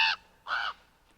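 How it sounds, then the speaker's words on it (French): A crow gives two harsh, loud caws with a short gap between them, heard close and alone with no voices. "C'est un corbeau, un grand oiseau entièrement noir."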